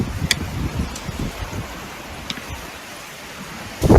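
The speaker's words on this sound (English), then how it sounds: "Hail coming in." Hail falls outside a porch in northern British Columbia, scattered irregular pattering and ticks over a soft rushing background, moderately faint, with a louder burst at the very end.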